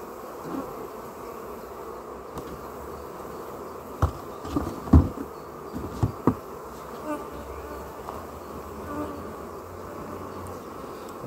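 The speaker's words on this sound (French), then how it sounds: "Je remarque que même en secouant un cadre, les abeilles restent très calmes." Honeybees buzz around a hive frame being shaken during an inspection, a steady close drone with a few louder handling bumps near the middle.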